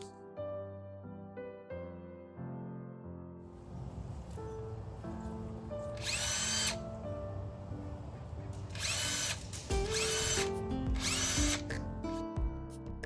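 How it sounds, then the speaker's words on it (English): Power drill fitted with an auger bit boring planting holes in garden bed soil for spring bulbs, coming in several loud whirring bursts of a second or so each, with some background rustle between them. "I love this bit for my drill. It has like an auger on it."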